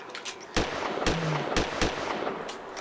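Shotgun blasts in a zombie film, several sharp booming reports spaced roughly half a second apart, loud and close over a rumbling background.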